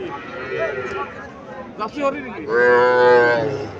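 A Jersey-Haryana cross calf at a cattle market lets out a long, loud, drawn-out moo up close, following a shorter low call, with people talking nearby throughout.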